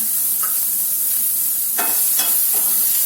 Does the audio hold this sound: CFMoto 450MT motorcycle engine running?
no